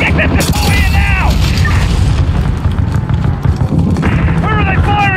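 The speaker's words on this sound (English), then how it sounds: "They're shooting bloody rockets at us." Rockets and explosions in Call of Duty Modern Warfare: heavy low booms and rumbling blasts fill the scene loudly throughout, with radio chatter and shouted voices over the combat.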